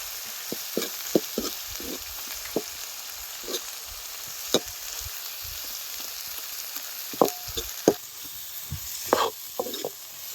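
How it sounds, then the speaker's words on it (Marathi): Ground onion-garlic masala paste sautéing in a little oil alongside drumsticks in a pan, a steady sizzling hiss broken by scattered sharp clicks and scrapes of stirring, close and moderately loud with no talking. "आपण आता वाटलेला कांदा लसूण मसाला टाकून घेऊ बघा असं साईडला टाकायचं मी यात थोडंसं तेल टाकून परतून घ्यायचं"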